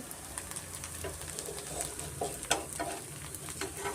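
Rava dosa roasts in oil on a hot pan, giving a soft, steady sizzle and crackle close by, with faint scraping stirs and a distant bird cooing in the background.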